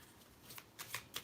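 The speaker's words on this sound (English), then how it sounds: "let's pull a card for you." Tarot cards being shuffled before a card is pulled: soft quick riffling bursts in four short rhythmic flurries, close and quiet, with no talk over them.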